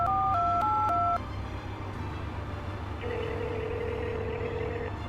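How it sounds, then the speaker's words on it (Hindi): A phone keypad beeps through a quick run of dialing tones, then a steady ringing tone follows, fairly quiet and with no voices. "अपना फोन निकालकर किसी को कॉल करने लगा"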